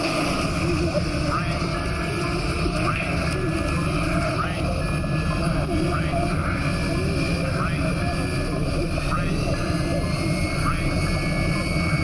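Airplane engines drone steadily and loudly as a plane flies through a volcanic ash cloud in a disaster movie, a constant roar with a rhythmic whining pulse and talk woven in.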